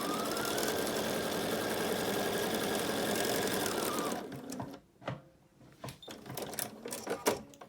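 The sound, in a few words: sewing machine sewing edges of a face mask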